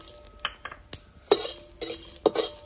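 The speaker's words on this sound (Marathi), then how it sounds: "लाल मिरच्या, तेजपान आणि धने थोडंसं भाजून घेणार आहे" Red chillies, bay leaf and coriander seeds are dry roasted in a hot kadai, with a spatula scraping and clinking against the metal in short, irregular strokes, close and moderately loud.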